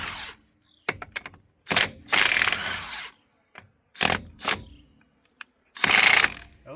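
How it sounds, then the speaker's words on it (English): Lug nuts being loosened to remove a wheel from a Ford F150 2WD, heard as short bursts of ratcheting, rattling mechanical clatter separated by silent gaps, close up with no talk. "Go ahead and remove this wheel."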